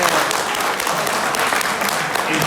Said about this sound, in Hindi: अगर उनके जिना टाइगर्स के बच्चे बैठे हैं तो तालियां बजाएं